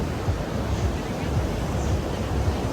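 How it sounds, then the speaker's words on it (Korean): Strong ocean waves at Mirissa beach in Sri Lanka, near rocks and a big hill, make a steady broadband surf roar with heavy wind buffeting the microphone throughout. "파도가 늘 세요"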